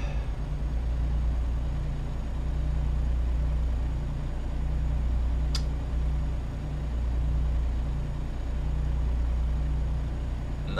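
A truck engine in the video game American Truck Simulator drones steadily at a low, even pitch throughout, a constant hum with no talking.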